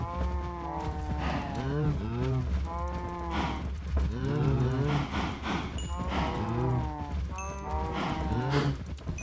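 Cows in the Minecraft video game moo repeatedly, a series of drawn-out lowing calls overlapping one another at close range, with a steady background hum beneath them.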